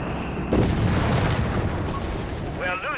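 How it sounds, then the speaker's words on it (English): A 17-pounder anti-tank gun fires in Company of Heroes 3, a loud booming shot with a sharp onset followed by a rolling rumble, amid dense battle noise and a voice talking over it. "17-pounder gun scores a glorious hit there"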